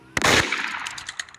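A sharp burst of rapid gunfire erupts at once in the Roblox game Murder Mystery 2, followed by a few fainter scattered shots and clicks, like game sound effects.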